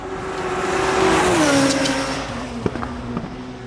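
Race car at Homestead-Miami taking turns 1 and 2 after a fast slipstream run, engine droning loud and close, its pitch dropping as the driver lifts and downshifts, with sharp clunks and bumps over the apex.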